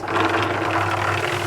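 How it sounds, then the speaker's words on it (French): An engine runs with a steady mid-pitched rumble and faint knocking, continuous and fairly close throughout. "Paddington entendit un bruit de moteur démarrer."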